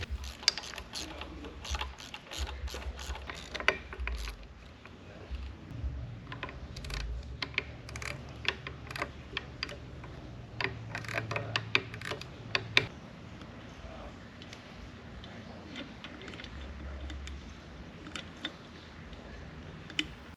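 Work on a Mercury 50hp outboard, with new bolts being fitted during a full service, gives sparse, faint metallic clicks and ticks from close by, scattered irregularly over a steady low background.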